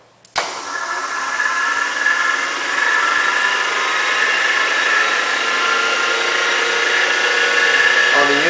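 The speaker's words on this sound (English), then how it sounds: "what little noise we're hearing, is basically those bearings being wound up to any RPMs for the first time" An electric conversion motor spins up after a sharp start, its new bearings winding to speed with a steady, loud mechanical whine and hum that rises slightly and holds, close by.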